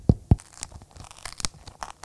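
Two sharp, crisp crunches come from biting into a raw bell pepper during a blindfolded ASMR tasting. A few softer crackles and chewing sounds follow, close up, with no talk.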